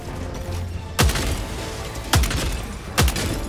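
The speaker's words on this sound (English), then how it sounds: "Yeah, it's a sniper rifle, basically." Three spaced sniper rifle shots in Helldivers 2, each a sharp loud crack with a booming low tail, fired about a second apart over a quieter rumble of battlefield ambience.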